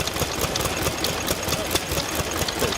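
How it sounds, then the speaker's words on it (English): A 1929 petrol stationary engine runs at a steady idle, a rapid, even knocking beat with mechanical clatter, close and moderately loud, with no voices. "Petrol engine."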